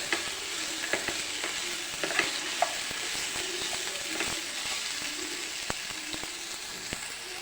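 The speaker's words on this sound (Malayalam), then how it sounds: "ഞാൻ തക്കാളി ഇട്ട് കൊടുക്കാൻ പോവാണേ. തക്കാളിയും കൂടി നല്ലപോലെ ഒന്ന് വഴരട്ടെ." Tomatoes frying in a pan with onions as the base for an egg roast, a constant close sizzle broken by sharp ladle taps and scrapes of stirring, with no talking.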